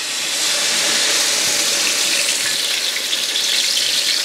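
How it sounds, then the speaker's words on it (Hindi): Naan dropped into hot oil for a mutton leg roast, a steady broadband hiss of frying that stays loud and even throughout, close up with no talking. "ये तेल गर्म हो चुका है तो इस नान को उठा के अब हम इसके अंदर फ्राई कर लेंगे"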